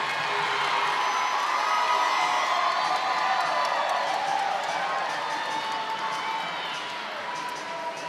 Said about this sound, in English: And if you hear that cheering in the background, so Gabby just beat her season high